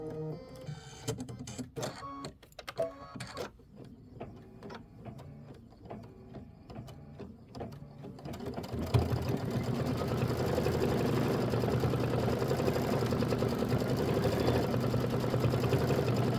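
A home embroidery machine stitches a watermelon mini quilt block, running as a steady, dense mechanical whir that grows louder and more continuous after the first several seconds of lighter, intermittent tapping.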